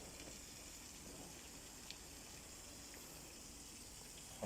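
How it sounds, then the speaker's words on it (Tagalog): Strong, steady gush of water flowing into a freshly dug hole among rocks, a continuous faint rushing wash with no pauses, heard from close by. "Lakas ng tubig, ano ba?"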